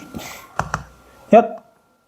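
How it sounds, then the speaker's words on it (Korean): A few computer keyboard keys are pressed, sharp separate clicks spaced apart, while someone speaks quietly over them in a classroom-style lecture setting. "키보드를 이렇게 기울이는 방법이 있을 텐데 쉬프트를 누르나?"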